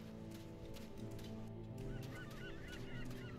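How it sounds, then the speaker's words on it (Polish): Seagulls calling in the video game Elex II: several high, squealing cries over a steady, dense background ambience, fairly faint and unaccompanied by speech. "Słychać mewy."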